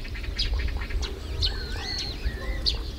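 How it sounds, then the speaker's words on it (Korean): Water birds resting by a seaside village on Geumodo island in the evening, scattered chirps and gliding calls over a soft low rumble, moderately distant, no voices. "물새들도 편안한 휴식 시간을 가져봅니다"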